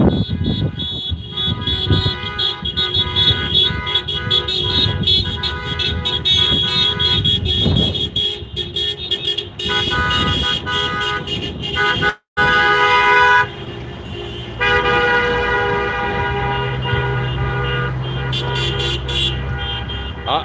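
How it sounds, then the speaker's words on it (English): Car horns honk in protest outside a criminal courts building, a dense street chorus of overlapping toots and long blasts that runs nearly continuously, with one brief cut in the middle. "I've heard they're honking at the people in the jail"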